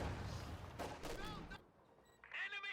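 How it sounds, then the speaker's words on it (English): Grenade and rifle-grenade blasts in an arena shooter video game, a burst of heavy explosive booms with crackling tails that fade into a brief lull before another sharp blast near the end. "They're going to try and trade grenades and the rifle nade wins that one."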